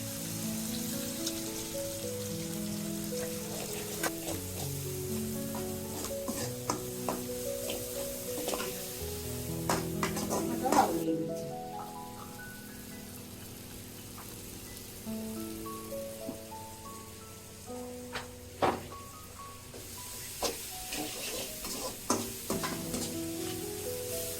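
Ground spices mixed with a little water, among them cumin powder, sizzle and spatter steadily in an oily pan while a utensil stirs and scrapes in irregular strokes, heard up close with no talking.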